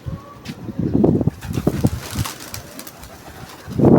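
A pigeon coos on a rooftop among other pigeons, soft low repeated coos close by, with a brief flutter of wings near the end.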